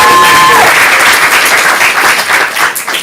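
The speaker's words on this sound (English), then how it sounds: "Just wanted to know what applause sounds like." An audience at a stand-up comedy showcase bursts into loud, dense applause that holds steady for a few seconds.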